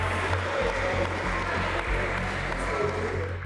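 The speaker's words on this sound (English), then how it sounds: "Please, round of applause for Dania as she takes a lead." Audience applause at a Valentine's speed dating event, a crowd clapping steadily for a few seconds at moderate volume with a low rumble underneath.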